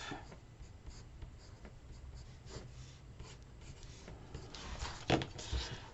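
A pencil marks an envelope template. The soft graphite scratching is quiet and close, with faint rubbing and a small breath near the end. No speech is heard.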